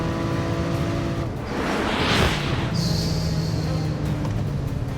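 A BMW M3 Competition's engine roars under hard acceleration, the loud rising note sweeping upward and then settling into a strong, steady drone heard from inside the car.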